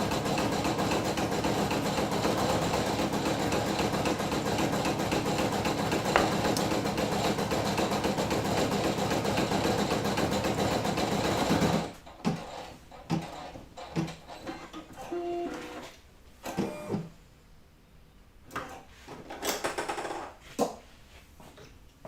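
A Brother PE800 embroidery machine stitching gives a loud, steady, even mechanical buzz for about twelve seconds, then stops abruptly, leaving scattered clicks and handling noises.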